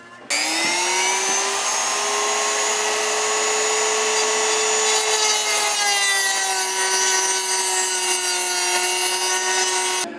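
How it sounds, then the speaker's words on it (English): A car throttle cable being cut, heard as a steady, loud, whining tonal grind that holds for about ten seconds with a slight rise in pitch partway through, with no talking. "Alright, we cut the cable, we put the ferrule on the end"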